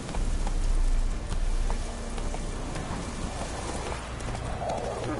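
Roach, the horse in The Witcher 3 video game, gallops in a steady clip-clop of hooves under rain-like background noise, moderately loud and continuous throughout.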